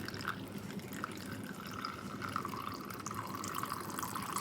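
Turkey tail tincture liquid trickles through a coffee strainer in a steady, soft, continuous pour with faint dripping, close and quiet, with no voices.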